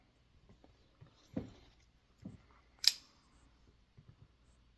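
A knife cuts into a Hurt Berry superhot pepper, giving a few soft, separate slicing crunches and taps close by, with one sharper scrape in the middle; no speech.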